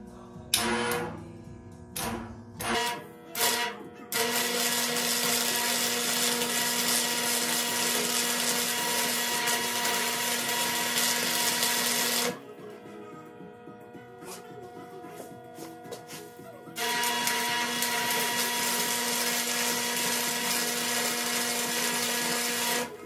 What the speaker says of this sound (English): I'm gonna start welding.